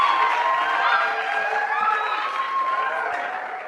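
A youth community-day audience claps and cheers loudly and continuously for an Olympic athlete on stage, children's shouts and whoops rising over a dense wash of applause that tapers slightly toward the end.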